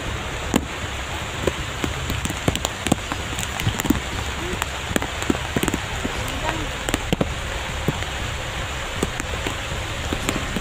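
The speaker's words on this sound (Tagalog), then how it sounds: "Kahit umuulan mga idol" Steady rain falls outdoors, a dense, even hiss scattered with sharp drop clicks and pops, continuous throughout and heard close up.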